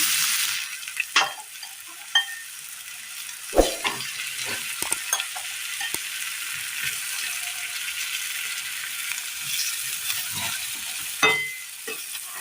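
Food frying in a pan of oil in a Kerala kitchen, a steady soft sizzle with occasional sharper clacks of stirring, close and alone without talk.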